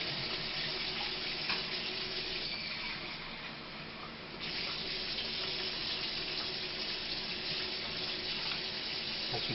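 Hot water runs steadily from a kitchen tap, a close, continuous splashing gush that dips briefly in force midway before resuming, with no voices.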